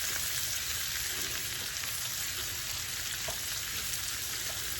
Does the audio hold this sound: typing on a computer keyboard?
no